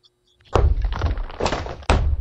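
Hammer smashing objects in the video game Backrooms Break, with a sharp impact at about half a second, crunching debris after it and a second heavy blow near the end, loud and close.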